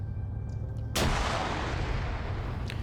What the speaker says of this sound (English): They got random 50 cal firing in that direction, too.